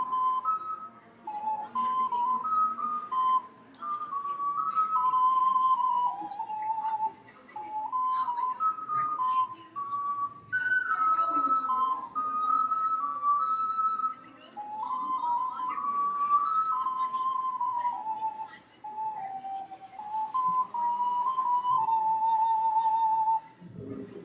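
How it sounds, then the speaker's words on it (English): A six-hole Tai Chi pendant songbird ocarina plays a slow melody of pure, breathy, whistle-like notes in phrases separated by short pauses. It is close and clear, with faint room noise between the phrases. "It's called Tai Chi Pendant Ocarina"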